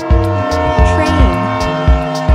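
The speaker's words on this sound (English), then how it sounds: "Train." A train rumbles along with a sustained, tonal horn-like hum and steady rhythmic clunks of wheels over rail joints, loud and close.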